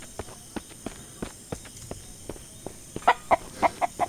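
Chickens in the survival video game MIST Survival cluck in short sharp bursts, with a quicker, louder run of clucks near the end, heard alone over faint ambient background.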